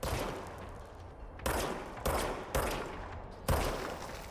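Service Weapon gunshots in the video game Control, four loud single shots at uneven intervals, each followed by a short echoing tail over a constant background hum.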